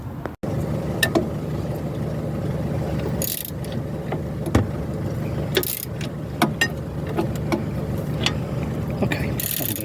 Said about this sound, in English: So that's both of those 2 nuts loosened.